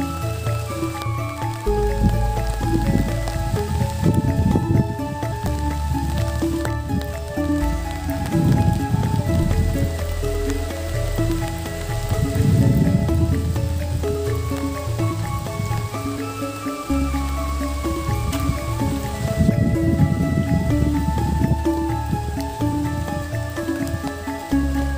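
Steady rain falls in a misty rural village in Trenggalek, East Java, a constant patter on surfaces lasting throughout, with a faint low humming tone underneath.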